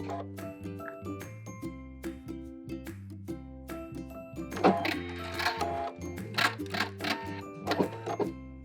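A sewing machine stitching the shoulder seams of a bias cut gown, bursts of rapid mechanical whirring and clicking, fairly close, with a few short pauses between runs and no talking.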